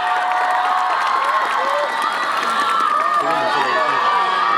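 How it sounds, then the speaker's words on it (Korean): Concert audience at a performance cheers loudly and steadily, a dense crowd roar with shouts and whoops, continuous throughout with some voices rising above the mass. "박수 크게 주세요, 여러분"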